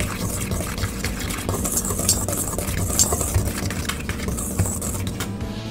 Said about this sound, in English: now we're just going to whisk all of these ingredients together